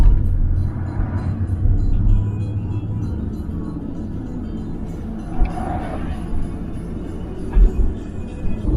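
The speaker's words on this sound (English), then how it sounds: "Got 2 cars coming." Two cars drive past on a road, a loud close rumble of tires and engines that swells and fades over several seconds, with a few louder swishes as they go by.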